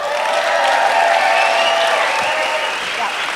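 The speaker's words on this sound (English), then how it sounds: "our need to be appreciated by your huge round of applause" Audience applause at an Ignite Denver live event, a steady dense wash of clapping from a large crowd that holds at full strength for a few seconds and eases slightly toward the end.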